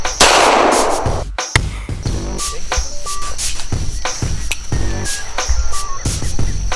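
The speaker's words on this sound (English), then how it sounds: "This next shot's gonna be a 9mm ball." A single sharp 9mm ball round cracks loudly near the start at an outdoor shooting range, followed by a brief hush and then clinking, chirping insects and scattered small impacts in the background.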